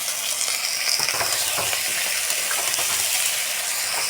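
Potatoes and vegetable stems fry in a pan with cumin and coriander powder for a prawn curry, giving a loud, steady sizzle with occasional stirring scrapes throughout, no voices.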